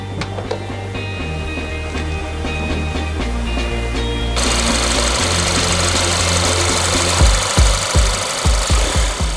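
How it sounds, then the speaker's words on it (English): The 118-kilowatt engine of a 2012 Volkswagen Beetle, rear-mounted in the trunk area, runs at a trade fair as a steady low putter that shifts pitch partway and ends in a few knocking thumps. "In terms of sound, the 118-kilowatt engine still putters like the old models."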